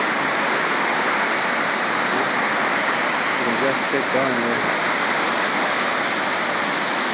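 Steady rain falling outdoors, a dense, even hiss that holds for the whole stretch, with someone speaking briefly over it.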